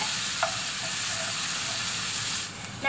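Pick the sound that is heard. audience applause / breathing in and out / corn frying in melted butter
corn frying in melted butter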